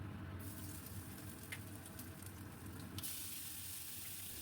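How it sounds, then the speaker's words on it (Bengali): Ginger and green chili paste frying in a pan with bay leaf and dried red chili, a steady broadband sizzle running alone throughout, with a few faint clinks. "খুব ভালো করে ভেজে নেব আদা আর কাঁচা লঙ্কা"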